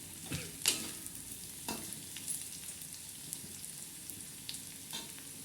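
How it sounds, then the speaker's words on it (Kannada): Fried onions and bitter gourd being stirred in a pan for a palya, with faint sizzling and a few soft scrapes and clinks of the spatula, quiet and sparse. "ಇವಾಗ ಈರುಳ್ಳಿ ಫ್ರೈ ಆಯಿತು. ಇವಾಗ ಎಲ್ಲನೂ ಮಿಕ್ಸ್ ಮಾಡಿಬಿಡ್ತಾರೆ."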